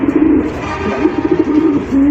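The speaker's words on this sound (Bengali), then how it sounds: "নর ডাকতেছে আর মাদি তাল মিলাইতেছে" Fancy racer pigeons cooing nearby, a male calling while a female answers in step, giving a steady run of low, rolling coos over about two seconds with no talking.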